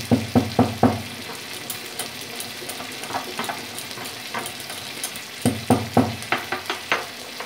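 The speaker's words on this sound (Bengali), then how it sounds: "টমেটোটা গলে যাওয়া পর্যন্ত ভেজে নেব।" Spice paste with tomato and poppy seed fries in a pan for a bitter gourd curry, a soft sizzle broken by sharp, rhythmic clicks of stirring that come in clusters, with no talking.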